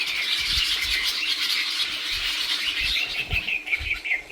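A flock of about fifty grey-headed starlings calls from inside a tree in the Himalayan foothills. Their dense, continuous chatter of chirps and squawks sounds close and busy, with occasional soft low thumps beneath.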